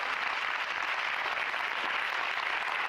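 Steady, dense clapping from an audience at a youth mental health event as a speaker takes a seat, an unbroken even roar of many hands with no voices on top.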